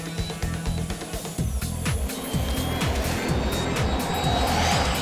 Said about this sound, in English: The jet is flying at 170 miles an hour.